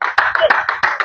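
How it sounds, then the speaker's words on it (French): A church congregation claps in quick, even rhythm, seven or so sharp beats close together in a brief burst, with voices mixed in. "Est-ce qu'on peut bénir le nom du Seigneur à une forte acclamation?"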